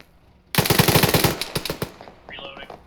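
Rapid bursts of airsoft gunfire during a field training exercise game, a loud fast string of shots followed by a few separate pops, with a voice speaking briefly after.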